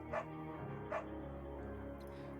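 A beagle barks in the video game Firewatch, two short quiet yips about a second apart over a low steady background hum.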